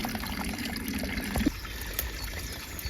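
Water trickles and gurgles softly outdoors in the wilderness as a Grayl filter bottle is dipped to scoop it up, with a faint burble and a small splash partway through.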